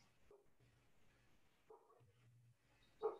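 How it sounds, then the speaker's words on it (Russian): A dog barks faintly in the distance, with a few short, separate barks spread across a quiet room background. "Где ты слышишь собаку?"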